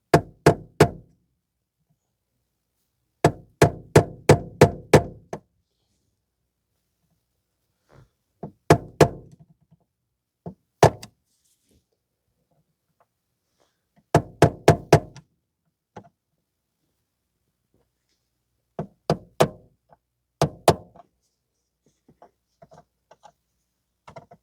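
Small chisel tapped to cut a plastic shifter housing on a 2003–2013 Toyota Corolla 1.8, heard as quick bursts of four to six sharp knocks separated by silent pauses, close and crisp.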